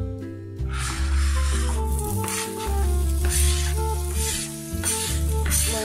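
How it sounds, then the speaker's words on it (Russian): Bell pepper fries in olive oil in a pan, giving a steady, close sizzle that runs throughout with occasional stirring noises and no talk. "сейчас я буду его обжаривать на масле оливковом"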